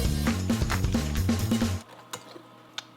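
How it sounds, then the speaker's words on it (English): A whisk clatters rapidly against a bowl, mixing sugar, canola oil, applesauce and cornstarch in a quick rattling rhythm over a low hum, then stops, leaving a couple of faint clinks. "we're gonna whisk together regular sugar, canola oil, applesauce, and cornstarch"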